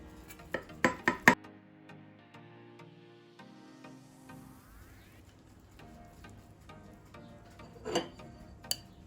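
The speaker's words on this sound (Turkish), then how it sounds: "Dilimleri ayırıyorum." Slices of baked potato-vegetable cake are separated with metal utensils, a quick cluster of sharp clinks against the pan, then quieter taps and one later clink over soft background music.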